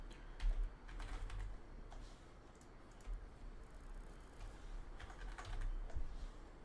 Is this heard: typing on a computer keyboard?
yes